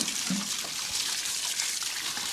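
Twenty litres of water gush from a water butt onto a garden, a steady rushing pour that carries through from start to finish.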